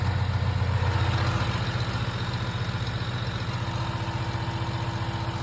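An Isuzu 9.8 liter engine, as used in older John Deere machines, idles with a leak, giving a loud, steady rumble with an even rapid pulse and no talking.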